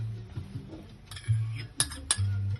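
A spoon clinks and scrapes on a plate while potato salad in vinaigrette is pressed over the bottom, with several bright taps and a low hum underneath.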